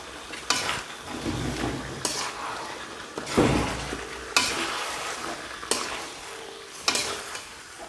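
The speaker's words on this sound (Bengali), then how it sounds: "মাংসগুলো মিলিয়ে নেবো আস্তে আস্তে।" Chicken pieces for a curry are stirred in a hot pan, a steady oil sizzle broken by repeated scraping strokes and clanks of the spoon against metal every second or so.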